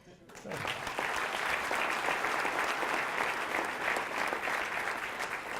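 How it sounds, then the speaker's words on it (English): A crowd bursts into steady, sustained applause at a mayor's city address, dense clapping that starts suddenly and holds at an even level. "Now you can applaud"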